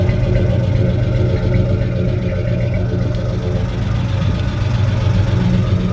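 A 1953 Ford F-100 pickup truck engine idles on a cold morning, with a steady, loud, low rumble that holds even throughout, close by and alone.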